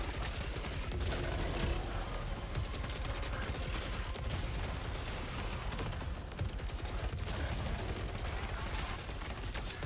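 Dense, continuous gunfire from enemies shooting corruption at the player in the Saros video game, a rapid stream of loud shots and impacts that stays constant throughout.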